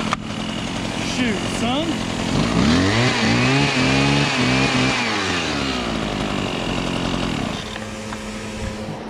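Husqvarna chainsaw idling and revving, loud and close, its engine pitch sweeping up and down in a steady whine before settling back toward idle, with a voice speaking briefly over it.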